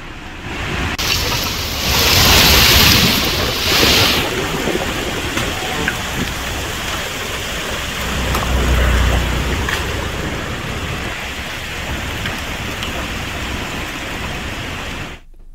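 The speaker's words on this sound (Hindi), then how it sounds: "फरीदाबाद में 50 से 70 मीटर किलोमीटर की रफ्तार से धूल भरी आंधी चली।" Loud, steady roar of a dust storm driven by strong wind in Faridabad, a dense continuous rush that swells twice and stays near and heavy throughout, with no voices.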